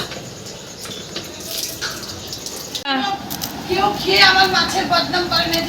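Water splashes and runs as hands are washed at a tubewell pump, a steady wet spray rising partway through, close and moderately loud, with people talking over it.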